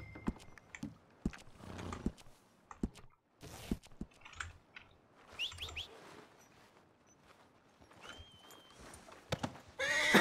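A speckled horse in the western roleplay game RedM whinnies and neighs, with rhythmic hoof clip-clops on and off over ten seconds and a few soft clicks like typing in the background.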